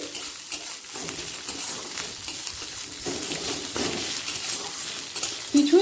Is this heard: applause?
no